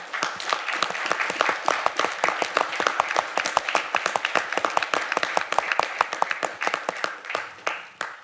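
A smaller group at an alumni reunion gives the organizer a round of applause, distinct individual claps heard close and crisp, a lively irregular patter that carries on evenly before tapering off.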